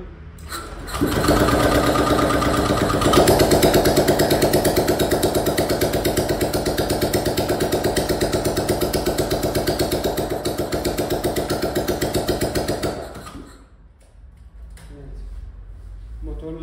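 A 2013 Honda PCX 125 scooter engine, running with no exhaust fitted after a top-end rebuild, runs loud and steady with a rapid, raspy putter, then cuts out, leaving quieter background noise.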